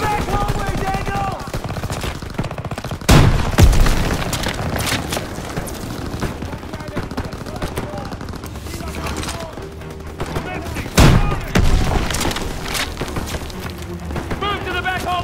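Grenade blasts and rattling gunfire in the Call of Duty battle for Aachen against Nazi troops, two heavy booms standing out over continuous bursts of automatic fire and loud combat din.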